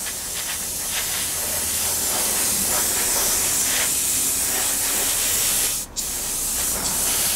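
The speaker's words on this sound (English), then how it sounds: "we're just going to spray this on there" An airbrush sprays thinned matte paint onto a 1/48 scale Tamiya Supermarine Spitfire Mk.I model, a steady close airy hiss running throughout with one brief dip in the flow near the end.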